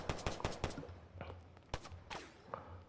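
Crossfire in the Roblox game Tha Bronx 2: a quick burst of four or five gunshots, then scattered single shots a little way off, fairly faint, with no talk.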